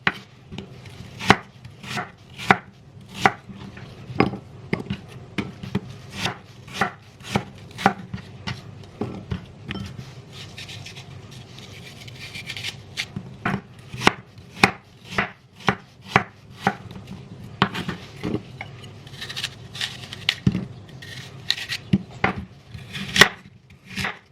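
A knife chops apple on a cutting board while preparing an apple cake, giving a long run of sharp, close, evenly paced cuts that pause briefly midway and then resume.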